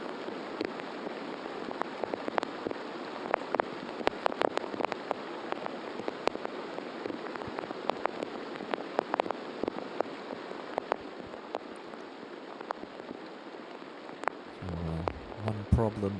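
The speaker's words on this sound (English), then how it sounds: "What was lightning and rain has now turned into hail and rain." Heavy rain mixed with hail pelts a golf course during a women's professional tournament, a dense steady hiss broken by sharp scattered pattering hits, with a brief muffled knocking near the end.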